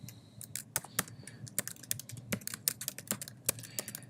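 Rapid keystrokes on a computer keyboard, a steady run of crisp clicks and taps at close range with no voices.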